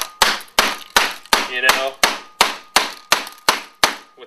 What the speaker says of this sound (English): you just want to take the giant African knife and just kind of hammer it